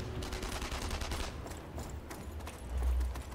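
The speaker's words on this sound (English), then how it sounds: "What or whom are they shooting at?" Rapid gunfire from several weapons in the World War II shooter Enemy Front, a dense, continuous fusillade of cracks close by with low rumble underneath.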